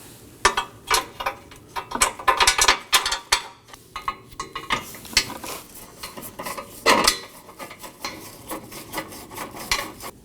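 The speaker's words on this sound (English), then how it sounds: "hand thread on your bolts on each side." Hand-threading bolts onto the front impact absorber of a Toyota Corolla: irregular light metallic clinks, taps and ratcheting rattles close by, in scattered bursts with short pauses, no talking.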